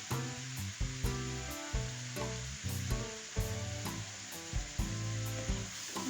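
A spoon stirring sugar into boiling water for mango pudding, with steady regular scrapes about once a second over a bubbling hiss, close and clear with no talking.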